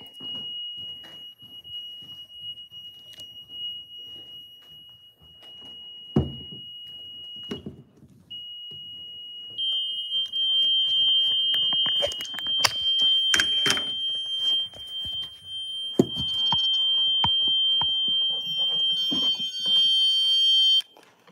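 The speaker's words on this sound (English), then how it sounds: "you listen to these alarms all freaking night" Alarms shrill continuously inside an old church building, a steady high electronic tone that cuts out briefly and resumes, joined by a second alarm later, with knocks, footsteps and handling noises around it.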